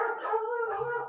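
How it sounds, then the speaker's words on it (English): Close, loud dogs making a drawn-out barking howl indoors at home, one continuous sustained vocal call lasting about a second, with no talk over it. "Sorry that my dogs are so loud."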